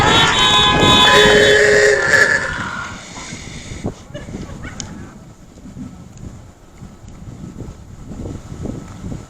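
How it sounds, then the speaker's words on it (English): Car horns honk in overlapping tones for the first couple of seconds at an outdoor high school honor ceremony, then fade into a softer patter of scattered clapping and wind noise. "Please, round of applause and honks for Destiny Britton."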